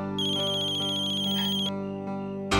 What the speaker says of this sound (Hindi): मैनेजर का फोन है।